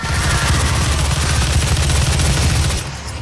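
Grenade launcher fire against an imp in the video game Doom, a loud, dense burst of booming, rattling shots packed tightly together for about three seconds before cutting off.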